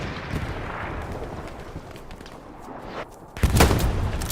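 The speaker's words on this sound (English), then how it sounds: "That artillery's fucking us." Artillery fire in an Arma Antistasi or Hell Let Loose battle: a steady low roar of distant shelling and gunfire, then a louder, closer burst of impacts near the end, with no voices.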